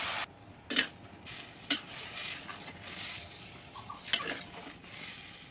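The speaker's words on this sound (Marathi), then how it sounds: "त्याच्यामध्येच अजून 1 चमचा तूप घालून आपण जो खिसून घेतलेला कोहळा आहे ना, तो त्याच्यात घालून परतून घ्यायचा" Grated ash gourd being stirred in ghee in a pan, a soft frying sizzle broken by several sharp scrapes and clinks of a spoon, close and fairly quiet, with no voices.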